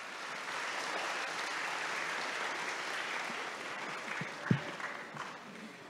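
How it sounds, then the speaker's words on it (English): Sustained round of applause from an evening audience at a Giacomo Puccini centennial celebration, a dense even wash of clapping that carries on for several seconds before a few louder knocks near the end. "Let's give her a round of applause."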